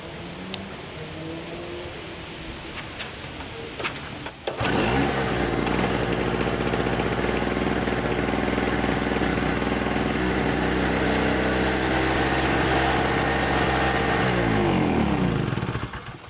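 A small portable generator engine starts after a single pull, its noise jumping up at about four and a half seconds, then running steadily, loud and close, with no talk.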